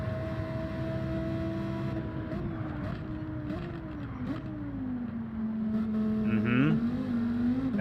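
Engine of a Lamborghini race car in Gran Turismo 7, a steady droning tone that holds then climbs and shifts pitch as the car revs, loud and continuous throughout.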